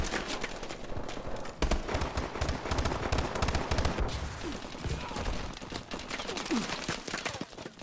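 Rapid gunfire in a Call of Duty Advanced Warfare multiplayer capture-the-flag match, dense bursts of automatic shots and overlapping rounds running almost continuously, loud and close, with no voices.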